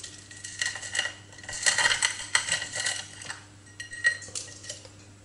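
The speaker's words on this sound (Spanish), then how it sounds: "No me digáis que no cruje este rebozado" A crispy battered onion ring crunches as it is bitten, giving several bright, close, crackling crunches in short bursts with no one talking.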